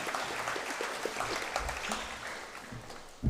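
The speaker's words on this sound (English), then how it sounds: "I think you should keep that round of applause going for yourselves." At a school academic awards ceremony, the audience claps in a steady round of applause with scattered individual claps standing out, ending in a louder thump.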